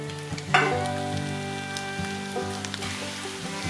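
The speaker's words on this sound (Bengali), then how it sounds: "ততক্ষণে আমার কড়াই ভাজাটা হচ্ছে" Soybean chunks frying in oil in a wok, a steady close sizzle with light clatters and stirring knocks, no talk.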